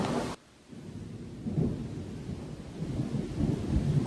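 Deep thunder from a lightning strike rumbles and rolls during a heavy storm in central New Jersey, beginning after a brief near-silent gap and then building steadily with rain hissing underneath.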